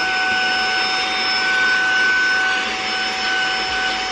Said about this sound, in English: So I'm glad I have the vacuum now